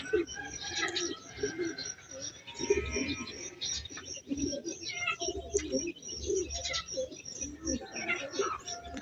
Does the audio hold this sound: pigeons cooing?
yes